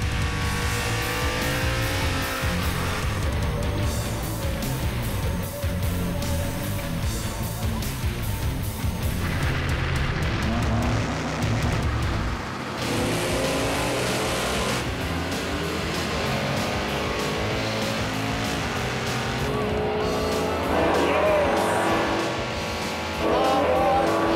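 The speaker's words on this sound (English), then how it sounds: "Let's do the burnouts, racers." Drag race cars doing burnouts at Bandimere Speedway, loud roaring engines with revving and squealing tires, several surges and cutoffs over the stretch, close and dominant.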